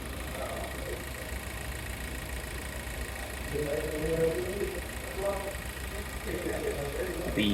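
A Proton S70 MC1 with a 1.5 litre i-GT turbo engine idles, a steady, low, fairly quiet hum heard close under a voice talking throughout.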